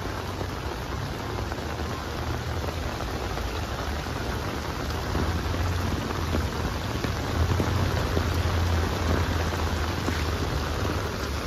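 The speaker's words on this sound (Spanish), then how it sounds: "Así está lloviendo tan sabroso." Heavy rain pours down in Huajuapan de León, Oaxaca, in July, with water swamping a street drain; a dense, steady roar of close rainfall runs throughout with low rumbling beneath, and no one speaks.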